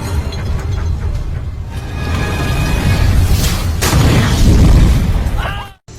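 Gas cylinders blow up in a room in a film scene, giving a dense, sustained roar of rumbling blasts and crackling debris that swells to a loud peak before cutting off abruptly near the end.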